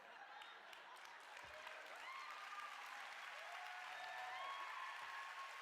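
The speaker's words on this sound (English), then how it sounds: "Why are people clapping about that?" A crowd claps continuously, a soft, dense patter of applause heard from a distance, with faint voices mixed in.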